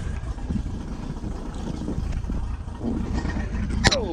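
A Mercruiser inboard boat engine idles with a low rumble, then revs up slightly louder toward the end, with wind buffeting the microphone.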